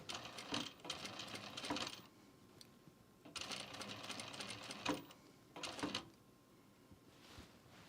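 A sewing machine stitches in three separate bursts of rapid mechanical chatter with short pauses between, close and fairly loud.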